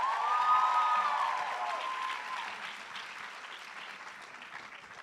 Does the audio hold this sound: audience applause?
yes